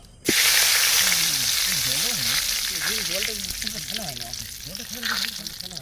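Bay leaves and dried red chilies hit hot mustard oil and burst into a loud, steady sizzle that begins abruptly and keeps crackling and hissing close by for several seconds, with a faint voice underneath.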